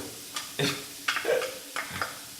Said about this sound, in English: that's a little bit of all of our lovely vegetables sauteing there